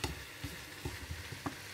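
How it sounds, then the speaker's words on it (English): Noodles and vegetables stir-fry in a pan, a faint steady sizzle broken by soft rhythmic taps as chopsticks push the food around. "Use a chopstick to stir them around, and later we will put in the beef."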